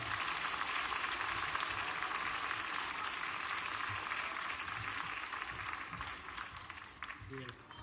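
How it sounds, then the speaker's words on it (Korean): Church congregation applauding during an Easter Sunday award ceremony, a long dense clatter of hands from a roomful of people that fades slightly toward the end. "우리 박수하며 시상하겠습니다."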